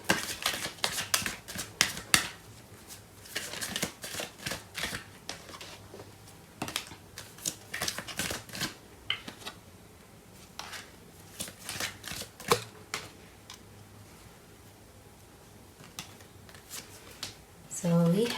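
Tarot cards being shuffled and drawn during a love reading, heard as close, dry bursts of papery riffling and flicking that come in irregular clusters, with quieter gaps and soft handling noises between them.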